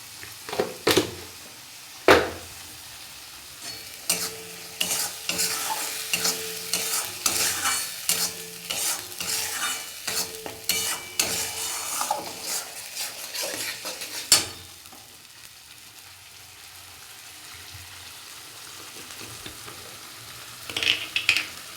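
Spice paste sizzling in hot oil in a pan for a raw fish curry, steady frying crackle under repeated scraping and stirring of a spoon against the pan, with a few sharp knocks and a quieter stretch near the end.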